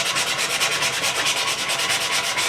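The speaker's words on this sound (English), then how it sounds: "You can use a hand sander. We can just sand it like this," Wood for a picnic caddy is sanded by hand in quick, even back-and-forth strokes, a close, continuous rasping with a steady rhythm.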